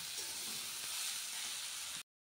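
White mustard paste tipped into a pan of frying note greens, a loud continuous hiss of sizzling oil held close for about two seconds before cutting off abruptly.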